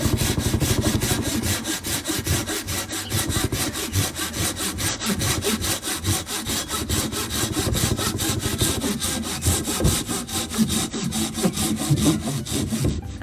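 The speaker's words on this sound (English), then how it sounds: "you'll hear the sound of the saw start to make a different noise" A hand saw rasps steadily back and forth through a wooden log resting on a sawhorse, with close, loud, continuous rhythmic strokes and no talking.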